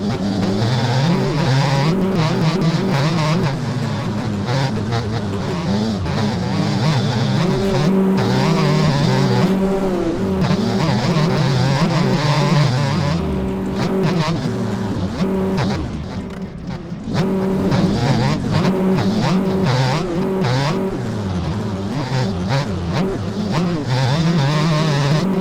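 Several dirt bike engines scream and rev continuously during a motocross race in MX Bikes, loud and close, with pitch rising and falling through gear changes and one brief dip before the howl resumes.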